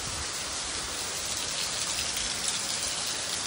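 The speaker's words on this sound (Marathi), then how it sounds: "पाऊस लय पडला" Heavy monsoon rain in the Konkan region of Maharashtra, India, pours down in a dense, steady hiss of countless drops striking surfaces nearby, continuous and even throughout with no voices.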